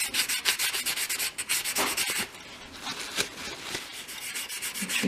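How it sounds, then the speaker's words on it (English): Kitchen towel rubs shoe polish onto a surface in quick back-and-forth strokes, a close, dry scrubbing swish repeating rhythmically, briefly easing midway before resuming, no voices. "I'm going to apply it as I normally would with a piece of kitchen towel"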